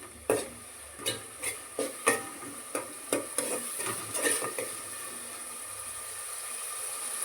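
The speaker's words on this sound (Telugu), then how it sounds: "ఇందులోకి సన్నగా కట్ చేసుకున్న ఒక చిన్న టమాటా రెండు పచ్చిమిర్చి కూడా వేసేసుకుందాం బాగా ఫ్రై అవనివ్వండి" Finely chopped tomato and two green chillies fry in a pan for goat head curry, a steady sizzle punctuated by a series of sharp stirring knocks early on, then settling into an even, continuous fry.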